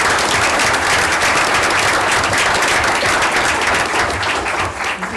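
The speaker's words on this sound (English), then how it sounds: "a round of applause for all of them is appropriate" Loud, sustained applause at a Franklin city Board of Mayor and Aldermen meeting for newly elected aldermen: many hands clapping steadily for five seconds, close and dense, with no voices over it.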